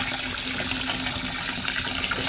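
Lukewarm water pours steadily over snowmobile carburetor parts from a 1995 Arctic Cat ZR 700 to soak them, a constant soft splashing gush at moderate distance with no talk.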